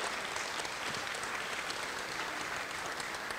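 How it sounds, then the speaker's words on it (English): Applause at a basketball tip-off reception honoring team staff, dense and continuous clapping from a gathered crowd at an even, moderate level throughout. "Let's give them a round of applause."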